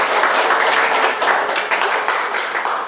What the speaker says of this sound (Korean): 우리 박수 한번 해줍시다